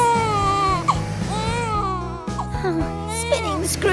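A cartoon child cries in wavering, sobbing wails over light background music, loud and close throughout the few seconds.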